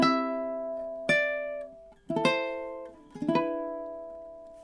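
Measures 13 and 14 of God Rest Ye Merry Gentlemen picked on a ukulele, four plucked phrases with short strummed chords between sustained notes, close-miked, played alone without talk.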